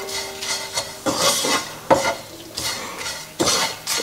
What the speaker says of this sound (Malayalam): അപ്പം നന്നായിട്ട് ഇളക്കി കൊടുക്കുക ഇപ്പോഴും.